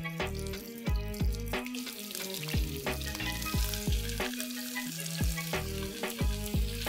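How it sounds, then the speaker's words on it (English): Goat meat sizzles and fries in a mix of oil, ghee and salt, with a steady crackling hiss and irregular stirring clatter, close up, with no talking. "the meat that's getting fried here in a combination of oil, ghee, and salt"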